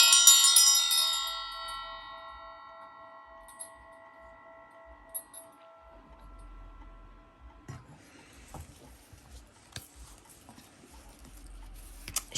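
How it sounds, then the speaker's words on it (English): A single bell struck once to clear a space, with a bright attack and a long, shimmering ring that slowly fades into near silence, heard alone. "Let's ring the bell. Let's clear out this space again."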